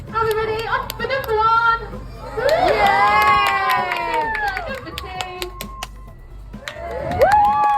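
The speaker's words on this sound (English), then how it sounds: "Let's give it a big cheer." A crowd, many of them children, cheers and shouts at a seal show at a seaquarium, loud excited whoops swelling in bursts with scattered clapping, a voice calling out over it, and a final rising cheer.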